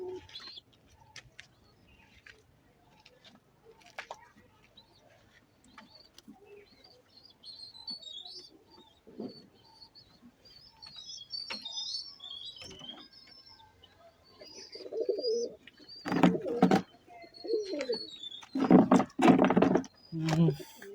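Pigeons in a home loft coo and chirp softly through the first part, with a few knocks and rustles, then louder bursts of cooing and wing or body movement near the end; a voice speaks intermittently.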